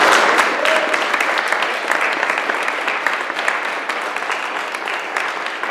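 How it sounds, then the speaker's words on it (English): Loud, dense audience applause at a political event introducing a congressman, a steady wash of many hands clapping close by throughout, without talk. "Let's give him a big round of applause."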